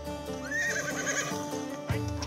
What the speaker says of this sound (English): They're Walers, direct descendants of the legendary mounts of the Australian Light Horse.